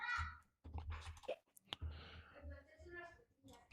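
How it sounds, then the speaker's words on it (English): Typing on a computer keyboard: sparse, close clicks and taps, one sharper keystroke standing out, mixed under a person talking throughout. "I'm typing and talking same time."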